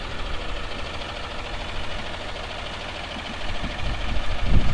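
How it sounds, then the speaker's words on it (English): The diesel engine of a Freightliner FL70 truck idles steadily nearby with a low, knocking rumble. It swells slightly toward the end. "hear it idling, it would sound just like a Dodge pickup"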